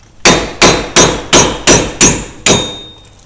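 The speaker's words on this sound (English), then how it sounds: "take your trusty hammer" Hammer knocking an extended wheel stud out of the rear hub of a Subaru BRZ or Scion FR-S, six sharp metallic blows in an even rhythm, the last one after a slight pause, loud and close with ringing decay.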